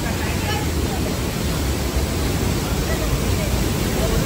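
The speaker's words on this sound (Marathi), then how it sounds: "आणि हा गुफेतून धबधबा वन साईड दिसतोय." Steady broadband roar of a waterfall heard from inside a cave near Satara, constant and fairly loud throughout, like rushing water filling the space with no distinct breaks.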